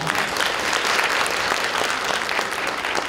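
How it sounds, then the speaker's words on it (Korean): Audience applause fills a conference hall at a Korean future innovation convergence forum, a steady dense wash of many hands clapping close and loud, sustained evenly throughout without talk. "여러분 박수 부탁드리겠습니다"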